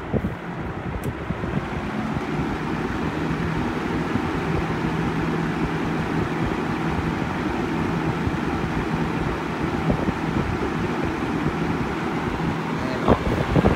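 A 1976 Lakewood Kmart 20-inch box fan, model K-223, first generation, worn from outdoor and garage use, running on its high setting. It gives a steady, loud, airy whoosh and hum that holds evenly throughout.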